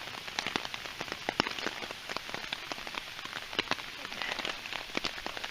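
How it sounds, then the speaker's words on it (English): Heavy rain pours steadily during a mountain thunderstorm, a dense close patter of drops striking a surface with scattered sharper splats, continuous and fairly loud with no voices. "The rain keeps getting heavier."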